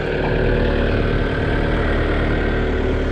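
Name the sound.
Kioti RX 7030 tractor engine running in second gear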